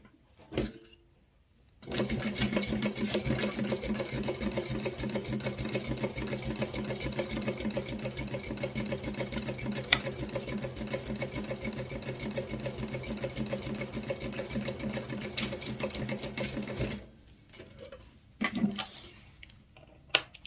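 Sewing machine basting along the top edge of a fabric wallet, a steady close mechanical whir running continuously for about fifteen seconds, with a few handling clicks before and after.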